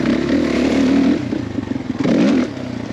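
A motorcycle churns through swampy mud, its mid-pitched engine revving steadily and close, with wet clatter and scraping as the tyres slog through the muck; the engine dips briefly before surging again.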